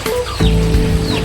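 Chickens cluck and ducks call close by on a rural Philippine homestead, a steady low hum running underneath, with a short higher cry near the start.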